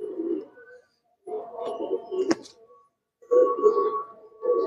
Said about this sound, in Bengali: এটা হচ্ছে তার নর পায়রা।